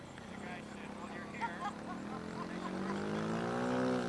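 Floatplane engine droning through touch-and-goes at a float fly-in, a faint distant propeller hum that rises in pitch and grows louder toward the end, with a voice talking over it.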